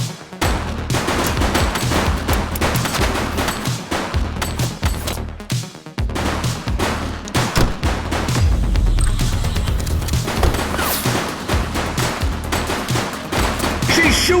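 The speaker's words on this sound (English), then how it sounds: "Shots fired!" Rapid bursts of gunfire ring out in The Precinct police video game, dense cracking volleys and automatic fire repeating over a steady low rumble, loud and close throughout, with a few shouted voices in between.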